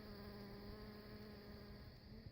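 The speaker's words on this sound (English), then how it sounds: "these are basically guard bees here" A steady, dense buzz of many honey bees droning together at a hive, guard bees close up, even and unbroken, fairly soft.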